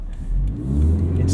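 A 2017 Toyota 86 engine revs up while driving, heard from inside the cabin as a close, rising mid-pitched drone over a brief stretch of acceleration.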